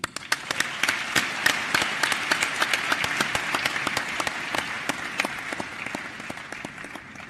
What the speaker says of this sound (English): we can give him another thunderous round of applause